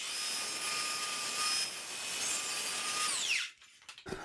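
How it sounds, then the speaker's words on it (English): A miter saw cutting wood trim, a steady high whine running for about three seconds before it winds down, followed by a few faint clicks and knocks, with no talk. "once I know I'm in position, flat against the base, flat against the fence, I can make this cut"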